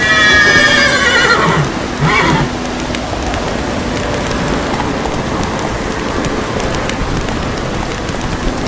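Roach, a horse in The Witcher III, gives a loud whinny up front, then a shorter snort-like call, over steady rain with faint hoof clops.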